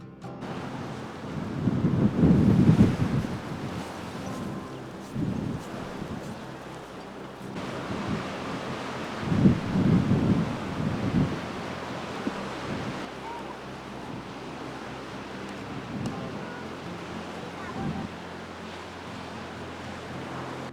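Waves surging and wind gusting at Boulders Beach near Cape Town, with rolling swells of surf rising and falling over steady, buffeting wind noise.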